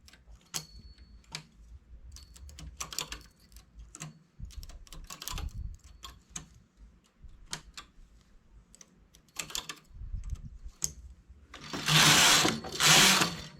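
A domestic knitting machine works a lace row, with a run of close mechanical clicks and clacks as stitches are transferred, ending in two louder, longer carriage sweeps across the bed; no one speaks.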